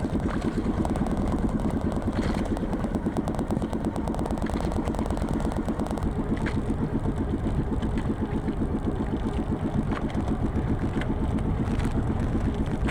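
A boat engine chugs and clatters at a steady idle close by on a fishing boat at sea, running continuously without pause or voices.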